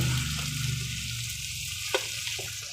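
Tomatoes, garlic, onion and ginger sautéing in a pan while cooking seafood, a steady close sizzle with a small clink partway through.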